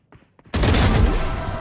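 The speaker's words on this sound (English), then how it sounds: "I was trying to shoot Sage" Sudden loud gunfire in the Valorant video game, a dense burst of shots that bursts in after a few faint soft sounds and continues to the end.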